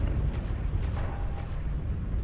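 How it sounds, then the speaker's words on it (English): Rumbling, sustained low explosions from airstrikes in the mech combat game MechWarrior Online, a dense continuous roar with no distinct separate blasts. "Airstrike"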